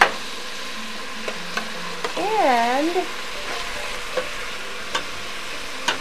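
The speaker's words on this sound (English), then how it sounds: "stir them. Just to kind of coat them well with the oil." Vegetables frying in oil in a pan while being stirred for a healthy pita pocket, a steady soft sizzle with occasional clicks of the utensil, under light speech.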